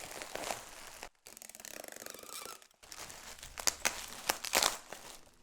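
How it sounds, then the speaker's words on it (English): Packing material being folded and taped into a cushion for an accordion shipping box: crinkly crumpling near and close, a steadier stretch of tape pulling off the roll in the middle, then sharp crackling rustles. "So what I do is I fold that, and then I push this down, get some tape on it."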